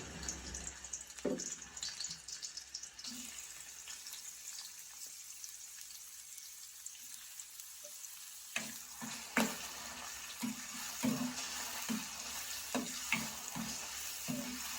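Oil sizzles and crackles steadily in a pan, with sharper bursts of spattering and a few clinks of a utensil later on.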